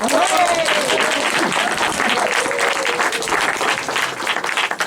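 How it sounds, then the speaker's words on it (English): Audience at a live comedy event at Towner, Eastbourne cheering and applauding loudly and continuously, with whoops and shouts over dense clapping that thins slightly toward the end. "Let's give a massive cheer, round of applause, for Chris Hogg."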